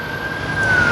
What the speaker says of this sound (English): I apologize for the sirens and the honking and all that madness.